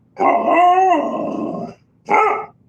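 A dog in a radio advert lets out a long, loud howling bark followed by a shorter second bark, close and clean against silence.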